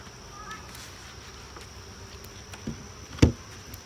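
Honeybees buzzing around an open hive during an inspection, a faint, steady insect hum close by with soft clicks and a sharper knock near the end.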